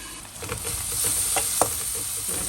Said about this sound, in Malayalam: ഉപ്പിട്ടിട്ട് നന്നായി വഴറ്റി കൊടുക്കാം.